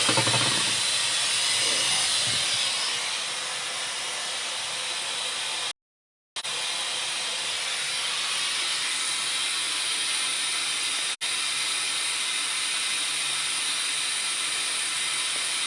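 Algerian red pepper purée sizzles and boils in a pan, a loud, steady broadband hiss that runs continuously apart from a brief dropout partway through.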